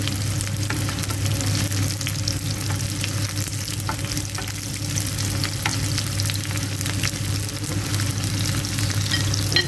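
Chicken liver, cut into large pieces for adobong atay, fries in a pan with a continuous close sizzle and steady crackle, unbroken by talk throughout.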